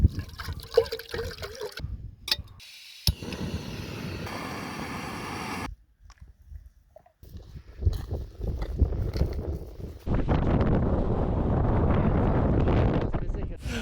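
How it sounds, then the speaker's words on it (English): Strong wind blowing outdoors at dawn on public land in New Zealand, producing rough gusting buffets against the microphone that come and go in bursts, with a brief lull in the middle and a loud sustained gust at the end. "the wind's a little bit nasty, but it's not too cold"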